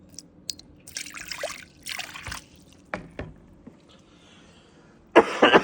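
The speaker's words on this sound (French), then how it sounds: "On va rincer à l'eau chaude maintenant." Hot water poured and sloshed to rinse recovered computer components in a gold-recovery process, with several short liquid splashes and trickles, a few clicks, and a louder, steady pour near the end.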